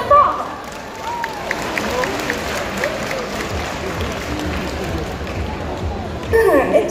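Audience applause and crowd noise at a cosplay contest in Bordeaux, moderate clapping under general hubbub with some voices, and a brief burst of louder sound near the end.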